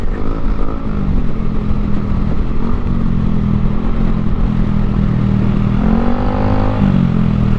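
Yamaha Aerox V2 155 scooter engine revving loudly and steadily up close, a continuous drone with rising pitch sweeps near the end, heard alone without talk.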